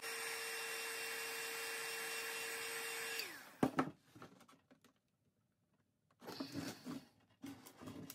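A heat gun blows steadily on high with a constant whirring rush while loosening a part, then cuts off, leaving close clicks, taps and handling noises.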